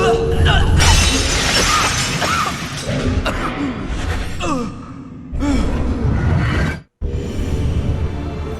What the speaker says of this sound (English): which is the sound of smashing glass